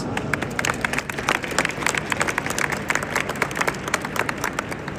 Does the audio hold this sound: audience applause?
yes